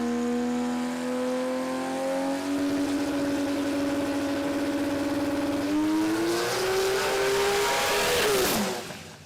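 A Corolla drag car launches off the converter at a drag racing event, its engine screaming loudly in a sustained rising whine, stepping up in pitch through gear changes before cutting off abruptly.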